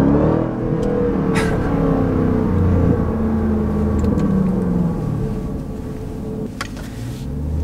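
707-horsepower 2018 Jeep Grand Cherokee Trackhawk SUV accelerating hard, its engine roaring loud and continuous as the revs climb and shift, heard from inside the vehicle.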